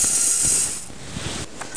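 Thermomix food processor grinding poppy seeds at speed 9, a loud steady high whirring grind that eases into a lower churning rattle with a few knocks.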